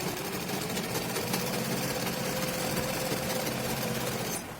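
Electric sewing machine stitching a sleeve seam on a nightie, a steady close mechanical whir with rapid needle rhythm running continuously for several seconds before stopping, no voices.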